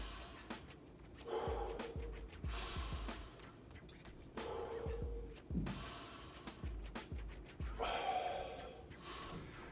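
Slow, heavy breathing from a person in a martial arts class, long audible inhales and exhales repeating in a steady rhythm, close and fairly quiet, with no talking.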